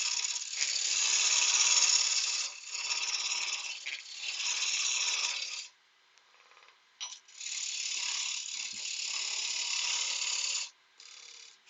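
A wood gouge cuts a small ring box spinning on a lathe, giving a close, bright, rasping hiss in long sustained passes. It breaks off into short gaps and brief touches between cuts.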